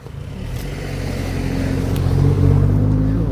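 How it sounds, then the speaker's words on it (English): Steady road traffic with cars driving past on a road with no pavement, a continuous low engine rumble that swells gradually louder toward the end, close by and without talk. "Cars everywhere."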